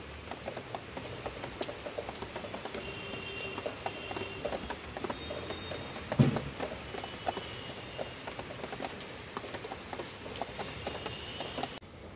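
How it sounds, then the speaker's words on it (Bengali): Light rain patters steadily, a soft, even texture of faint ticks and taps with one brief louder knock midway. "শুনতে পাচ্ছেন টিপ টিপ বৃষ্টির আওয়াজ?"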